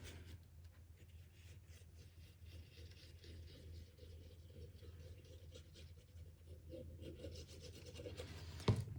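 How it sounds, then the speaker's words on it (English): Recycled paper for a desk calendar is folded and a tab is burnished flat, giving a faint, continuous soft rubbing and scraping close by, with a brief louder tap near the end. "I'm going to burnish here, and we're going to do the same on this 1/2 inch tab as well"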